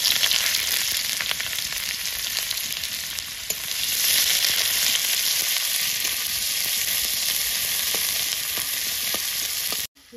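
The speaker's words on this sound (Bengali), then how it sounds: "শুকনো লঙ্কা দিয়ে দেবো, পেঁয়াজ কুচি দিয়ে দেবো।" Dried chillies and chopped onion frying in hot oil for a Bengali spinach dish: a dense, steady sizzle close up, unbroken for about ten seconds with faint stirring clicks and no talk, cutting off abruptly at the end.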